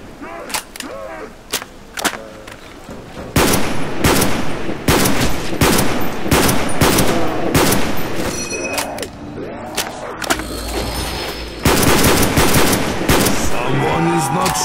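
Machine gun fire in Call of Duty Black Ops Zombies on the Verruckt map, loud repeated bursts and rapid volleys with brief pauses between them, under occasional voices.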